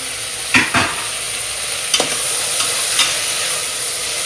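Curry masala with mint and coriander leaves frying in a pan, a loud steady sizzle broken by a few sharp spoon scrapes and taps, no voices.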